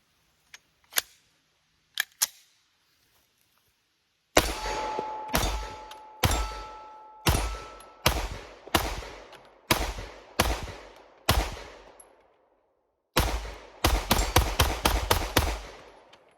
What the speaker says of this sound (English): we'll keep shooting because I want to get through 200 rounds in this because gun's getting hot